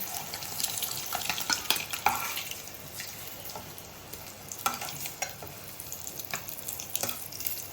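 Eggs frying in a pan give a soft steady sizzle, with scattered scraping and tapping of a spatula against the pan, close but fairly quiet, no voices.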